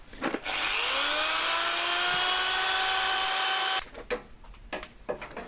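A power drill bores spot-weld holes through a sheet metal panel during a camper van's front lower corner repair, with one sustained whining run that lasts about three seconds, framed by brief clatter and handling noises nearby.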